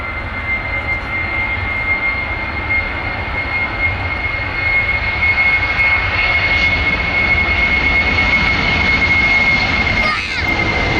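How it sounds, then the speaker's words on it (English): Jet engines roar loudly and steadily with a high whine on top, building in power as an airliner spools up for takeoff at London Stansted Airport. "let's hear those engines spool up and watch this beauty climb into the sky"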